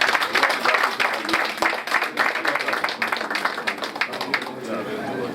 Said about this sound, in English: Please give her a beautiful round of applause to encourage her.